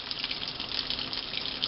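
Warm tap water runs steadily from a faucet into a sink, a continuous close hiss and splash that holds even in level for the whole stretch, with no voices over it.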